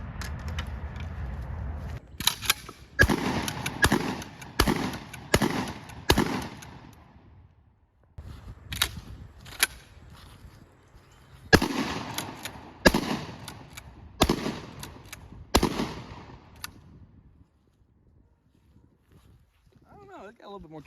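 A cheap budget shotgun fired outdoors: a long run of sharp, loud blasts in loose clusters with short gaps between them, and people talking in between the shots.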